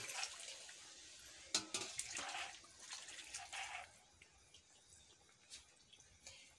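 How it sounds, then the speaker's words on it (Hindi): Water from washing a metal plate is poured into a cooking pot of village-style eggplant curry, a quiet splashing trickle with brief louder splashes that tapers into faint drips. "ये थाली को मैं धो लेती हूँ और ये पानी को मैं इसी में डाल देती हूँ।"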